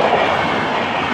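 A passing train roars close by, a loud, steady wash of rumbling and rattling wheel and carriage noise that fills the whole moment with no voices.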